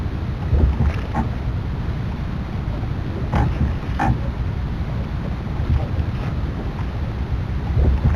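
Steady low rumbling drone of a boat motor on a narrow canal in Amerzone: The Explorer's Legacy, running continuously, with faint splashy bursts on top, fairly loud and without talk.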